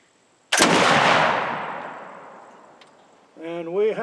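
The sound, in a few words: gunshot from a 1777 French flintlock hunting musket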